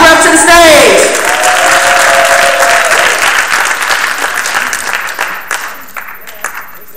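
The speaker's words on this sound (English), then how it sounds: "Y'all clap her up to the stage." Audience applause for a contestant at a 2011 youth poetry slam in Jacksonville, steady and full at first, then thinning into scattered claps, with an announcer's voice and a whistle-like tone in the opening seconds.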